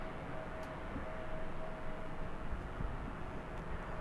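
An airplane at LAX airport roars steadily at a distance, a broad, even engine rumble that holds for several seconds with no voices over it.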